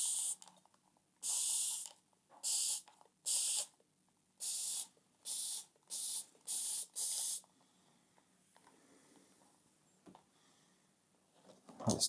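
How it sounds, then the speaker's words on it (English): Liquid sprayed onto a painting from a close spray bottle, eight sharp hissing bursts in an uneven rhythm, followed by quiet handling noise. "Let's spray into that as well."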